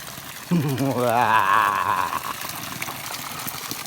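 Water pours steadily at the Bulabog waterfall in the jungle, a constant broadband rush running beneath a loud, sustained voice calling out for a couple of seconds, with the flow continuing alone afterward.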